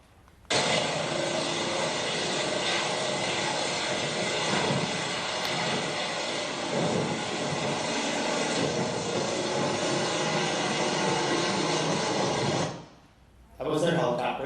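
Medical helicopter landing after a crash rescue, a loud steady rotor and engine roar that holds for about twelve seconds, then cuts off abruptly.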